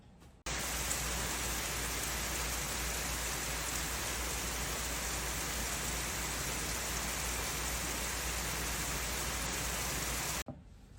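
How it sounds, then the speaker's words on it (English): Heavy rain pours down in a dense, steady roar that starts abruptly, holds constant, and cuts off near the end. "I will insert some footage here of it just absolutely dumping rain"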